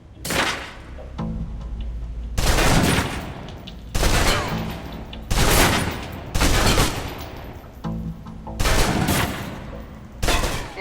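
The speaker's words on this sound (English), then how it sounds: "Now, let's move on to the submachine gun. Now let's empty the clip." Submachine gun fire in the video game Alpha Protocol, several loud sustained bursts emptying the magazine, each about a second long, separated by short pauses, with faint talk in the gaps.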